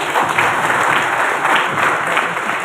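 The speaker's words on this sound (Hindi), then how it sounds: "ताली होना चाहिए।" Loud, dense applause from a large audience at a live event, sustained evenly for a few seconds with no pauses and no speech over it.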